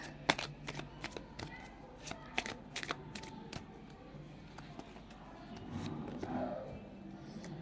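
A deck of cards is shuffled for a card reading, with a series of sharp riffling flicks and taps in irregular bursts, then a softer rustle, close and fairly quiet with no speech.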